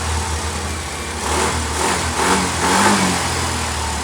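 An engine drones steadily close by and is revved in a few gentle swells, its rumbling hum rising and falling without sharp peaks, and nobody speaks.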